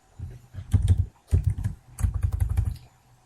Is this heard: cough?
no